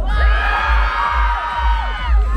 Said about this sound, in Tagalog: Isang malakas na sigaw, okay?